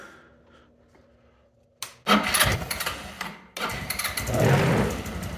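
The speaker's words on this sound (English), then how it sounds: "To make sure our connections are solid, we can turn the scooter on." A Royal Alloy GT150 scooter, just fitted with a new CDI, cranks and fires up after a quiet pause, stumbles briefly, then catches again and settles into a loud, close, steady idle.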